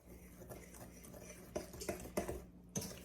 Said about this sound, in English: I'm just gonna take and mix this brown sugar and butter together